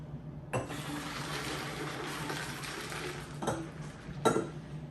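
Water pours into a pitcher for lavender lemonade with lemons and lime, a continuous rushing fill from a tap punctuated by a few clinks of the container, quiet and close.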